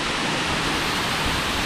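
Achankallu waterfall at Konnakkad in Kasaragod, roaring with a dense, steady rush of falling and splashing water close by, filling the whole clip without any voices.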